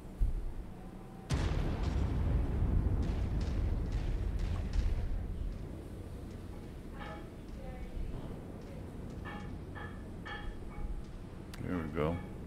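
Mech weapons firing and striking targets in MechWarrior 5, a heavy blast opening a rumbling barrage that fades into scattered impacts and pulsing electronic tones, with brief voice chatter.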